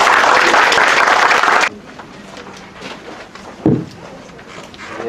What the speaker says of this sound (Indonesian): Ayo kita beli tepuk tangan yang meriah dong.